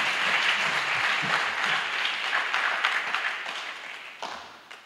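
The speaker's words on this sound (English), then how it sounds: "let's give Mustafa a big round of applause." Audience at a graduation ceremony applauding, a dense crowd of clapping hands heard from within the room, steady for several seconds before gradually tapering off, with no speech over it.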